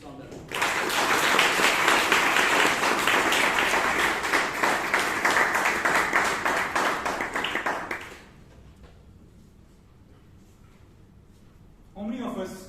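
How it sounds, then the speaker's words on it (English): An audience at a Toastmasters meeting breaks into loud, sustained applause that runs about eight seconds, then fades to a quiet room before a voice begins speaking. "Can we have a big round of applause for Toastmaster Harish Saundar?"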